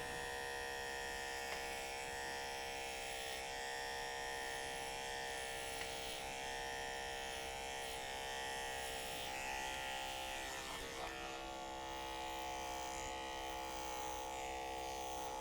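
Andis electric clippers run steadily while shearing a market wether goat, a continuous close, loud motorized buzz with a strong hum and faint shifts in tone as the blades move through the hair, with no talking.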